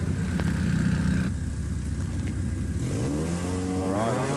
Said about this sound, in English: It is a genuine Ford Sierra RS 500 and being put to good use here at Sydney Dragway